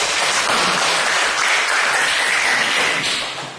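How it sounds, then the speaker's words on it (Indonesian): A classroom of students applauds together, giving a steady, loud wash of clapping that holds for a few seconds and then fades slightly at the end. "Bisa diberikan aplaus dulu nak."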